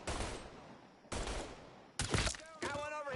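Gunfire in the video game Mafia 3, several loud bursts of rapid shots separated by brief gaps, with a voice reacting over the last burst.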